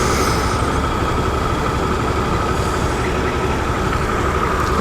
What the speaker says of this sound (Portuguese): A moto tá com um ronco muito mais potente do que tava antes, mano. Tá roncando muito.